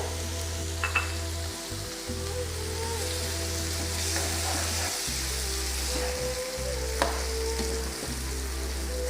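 Butter and chili powder sizzle steadily in a pan for masala prawns, a continuous crackling hiss with occasional stirring clicks over a low background hum.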